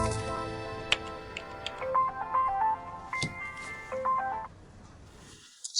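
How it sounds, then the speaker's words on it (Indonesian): A phone rings with a melodic electronic tune of stepped tones for an incoming call, moderately loud, with a sharp click before and a faint voice nearby. "Guru Lin telepon"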